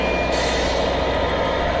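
Remote-control truck on a model construction site giving out steady, evenly spaced reversing beeps over a continuous mechanical hum, close and clear, with no talking.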